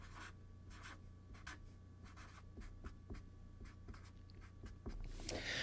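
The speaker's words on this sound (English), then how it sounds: "I'm going to write this one down." Handwriting on paper makes a series of short scratchy pen strokes in an uneven rhythm over a faint steady electrical hum, close and quiet, with no talking.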